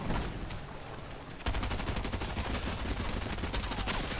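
Rapid automatic gunfire in the video game Fortnite, a dense continuous burst of shots that grows louder and fuller partway through, with no talk over it.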